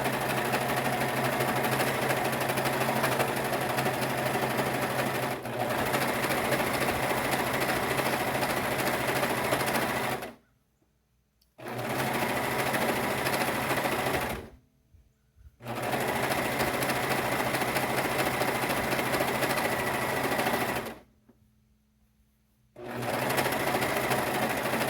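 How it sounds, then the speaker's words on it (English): A sewing machine zigzag-stitching knit fabric runs in long steady bursts with a fast mechanical whir, stopping briefly three times before starting up again. "If you're using a sewing machine, again, you do 1/4 inch seam allowance and the zigzag stitch"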